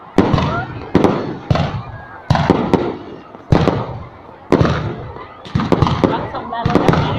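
Village fireworks bursting in a rapid series of loud, sharp booms roughly every second, each with a rumbling tail, with people talking between the blasts.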